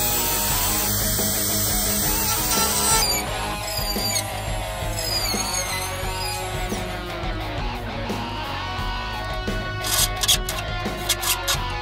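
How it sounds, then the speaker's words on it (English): A Dremel rotary tool grinds a seat pan, high whining spin with rising and falling pitch as it bites into the material in short passes, close and continuous. "I think I'm gonna try the Dremel anyway and see how that works."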